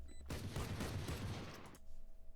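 Gunfire in the video game Valorant rattles out as a dense, muffled burst of rapid shots lasting about a second and a half, fairly faint, then cuts off into quiet.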